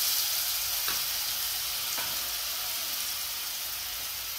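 Garlic paste sizzles in hot oil in a pan with a steady, close, broadband hiss that holds evenly throughout, broken only by a couple of faint clicks.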